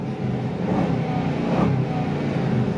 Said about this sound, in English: I'll show you the stock revs.